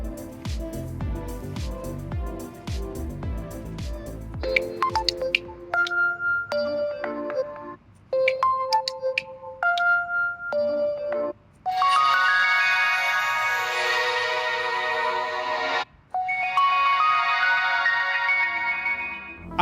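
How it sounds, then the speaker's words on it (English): A sequence of Oppo aquamorphic ringtones, alarms and notifications plays one after another, bright melodic electronic tones in short bursts with brief gaps, ending in longer sustained chiming passages. "they have worked with music academies to create this set of ringtones, alarms, and notifications"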